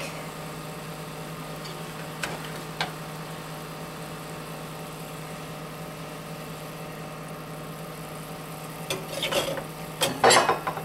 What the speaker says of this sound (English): I'm going to add my salmon, not my shrimp